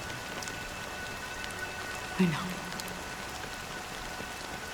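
Steady rain patters across surfaces in a video game cutscene, a soft, even wash of droplets throughout, with a short low rumble midway and a voice speaking briefly over it.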